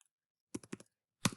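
A handful of quick keystrokes on a computer keyboard, close and crisp: a short burst of three or four clicks after a pause, then one louder tap, with silence between.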